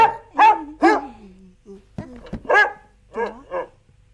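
Several sharp, close dog barks and yelps in an irregular sequence, with short pauses between them, at a Lunar New Year comedy skit; the barks may be a person imitating a dog.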